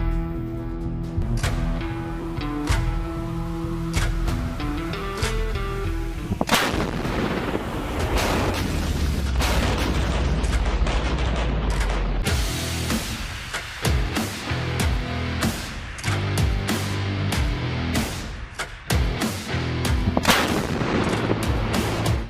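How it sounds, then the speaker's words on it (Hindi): A towed artillery gun of the Indian Army fires again and again, each loud boom cracking and rolling out. The blasts sometimes come in quick succession, with music playing beneath. "ये तोप बढ़ाएगी भारतीय सेना की ताकत। इस गरज से थर्राएगा दुश्मन का दिल"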